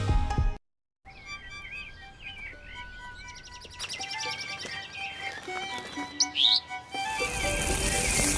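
Wild birds chirp and sing in a garden, bright tweets and trills rising in short bursts over a soft background, close and clear, with a brief silent gap near the start.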